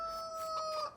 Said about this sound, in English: Oh, there's our rooster